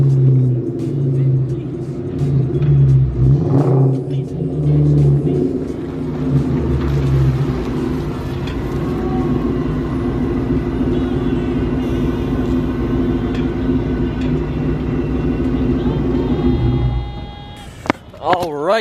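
Steady engine drone of a bagged, boosted 2-valve car with low rumble throughout, shifting slightly as it drives, ending with a brief clatter.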